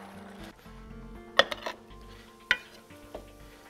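A spoon stirs white beans into chicken stew in a pot, with quiet scraping and a few sharp clinks against the pot, the loudest near the middle and one later, all fairly faint.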